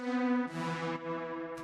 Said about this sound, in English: after that, I have this little brassy lead sound that I made.